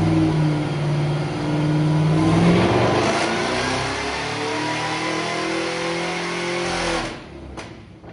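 A Cadillac CTS-V revs hard on a dyno, a loud engine roar climbing and holding for several seconds before dropping off sharply near the end.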